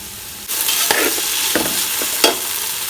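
Chicken fried rice with green peas, with schezwan sauce going in, sizzles loudly in a hot pan as a spatula stirs and scrapes in several distinct strokes, with no talking.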